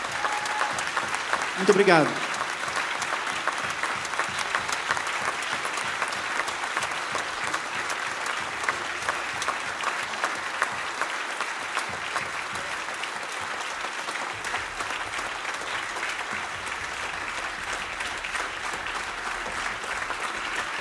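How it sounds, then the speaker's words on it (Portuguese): A concert audience at a show gives long, sustained applause, a thick, even roar of clapping that carries on steadily, with someone briefly speaking near the start. "Uma salva de palmas."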